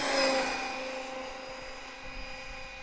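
A brushless Traxxas Summit RC truck running a 4S lipo at full throttle makes a steady high-pitched electric motor whine with a sustained tonal hum, loud at first and easing slightly as it pulls away.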